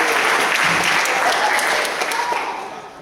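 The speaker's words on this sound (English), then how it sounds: "Round of applause, everybody, for Jack." Steady applause from an audience, a crowd clapping continuously and fading out toward the end.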